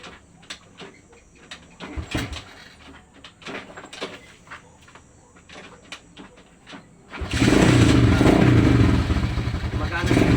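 A motorcycle engine starts about two-thirds of the way through and runs loudly and steadily to the end, following quieter knocks and clatter while the bike is being cleaned; people talk over parts of it.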